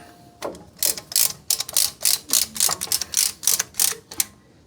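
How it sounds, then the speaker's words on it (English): A brake ratchet spreader pushes back the front brake caliper piston on a Mitsubishi Triton MN, giving a close, rhythmic series of about a dozen sharp mechanical ratcheting clicks. "It's my own personal brand tool, Southsidemobilerwc Brake Services brake ratchet spreader."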